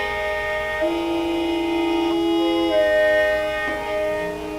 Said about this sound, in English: this is a Hmong instrument that's very common to use